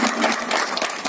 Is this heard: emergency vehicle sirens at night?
no